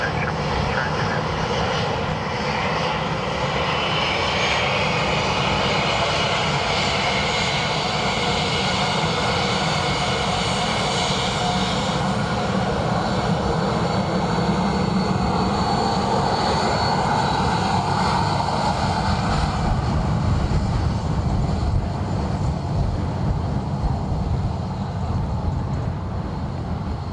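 An aircraft lands at Dublin Airport, its engines a loud, steady roar that holds for the whole stretch, with faint radio talk underneath.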